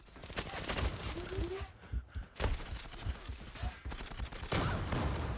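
Rapid shotgun blasts from an M4 Super 90 in the Zula online shooter game, loud repeated bursts of gunfire with sharp cracks across the span, mixed with a voice talking over the action.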